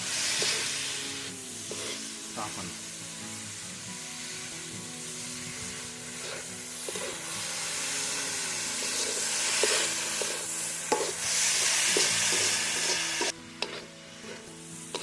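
Grated radish with turmeric sautés in a pan, a steady sizzle and hiss with occasional scraping stirs and brief clinks from a spatula, close and continuous for the whole stretch, no talking.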